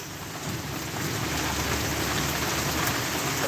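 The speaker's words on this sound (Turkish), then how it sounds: "Şiddetli yağmur yağıyor." Heavy rain with hail pouring down outdoors, a dense, loud, continuous hiss and patter of drops striking surfaces that builds slightly and holds steady, with no talking.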